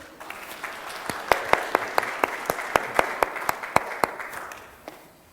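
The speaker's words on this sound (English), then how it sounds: "Let's have a round of applause for Bruce." A church congregation applauds during a service: a soft wash of clapping with a few loud, evenly spaced nearby claps on top, fading away toward the end.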